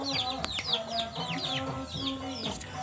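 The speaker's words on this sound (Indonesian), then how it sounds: "Wow, ini ayam." A rooster over three years old clucks repeatedly at close range, with short rising and falling calls in a quick, uneven rhythm.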